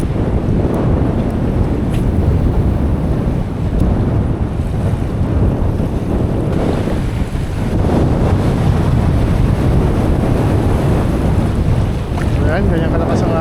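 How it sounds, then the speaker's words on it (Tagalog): Strong sea waves and gusting wind batter a boat at sea, a loud, continuous roar with rushing surges. Heavy wind buffets the microphone throughout. "Ganyan kalakas ang alon, guys."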